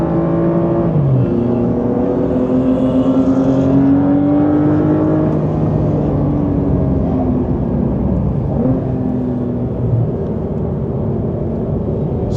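A race car approaches and passes on a circuit, heard from inside a Porsche GTS-type sports car whose engine drones steadily throughout, the other car's engine rising and shifting in pitch as it goes by.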